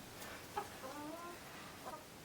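Chickens cluck softly in a chicken coop, a few faint, scattered calls over a steady background hiss, with no talk.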